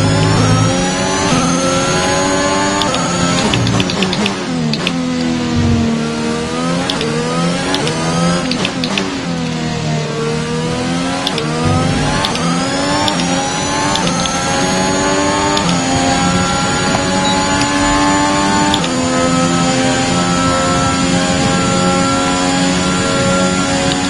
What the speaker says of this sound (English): Nice, this car is driving so cool. The sound is so nice.